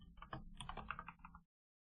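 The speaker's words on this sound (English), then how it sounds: "I'm typing this out so I can learn" Typing on a computer keyboard while writing code: a quick, close run of clicky keystrokes lasts about a second and a half, then cuts to silence.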